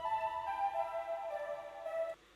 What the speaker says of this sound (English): Serum is a nice synthesizer or VST synth, which without the processing sounds like this